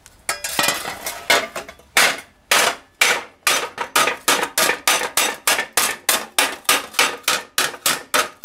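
Hammer blows on welded sheet metal being straightened, sharp metallic clanks, irregular at first then settling into a steady rhythm of roughly two strikes per second, loud and close with no talking.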